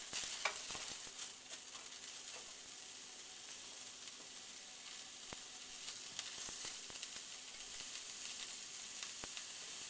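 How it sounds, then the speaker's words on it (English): Onions simmer-frying in a little water in a pan: a faint, steady hiss of sizzling with occasional small pops and ticks throughout. "I'll add a little bit of water to get the onions to saute, to become translucent"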